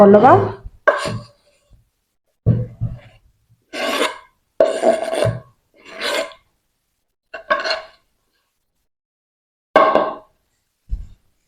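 A knife cuts the crust edges off bread for bread gulab jamun, giving a series of short, close rasping strokes in separate bursts with brief pauses, fairly loud, with no talk over them.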